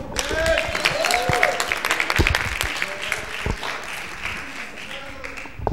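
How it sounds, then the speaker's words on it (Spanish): An audience claps for the teacher at a youth democratic-leadership workshop, the applause moderate and scattered, with voices and cheers mixed in throughout and fading toward the end. "un aplauso para la profe."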